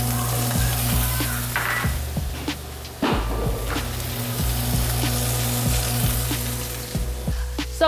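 Steak sears in a smoking-hot, dry cast iron pan with a steady broadband sizzle, broken by a few sharp knocks and pan scrapes, with a low hum underneath and no talk.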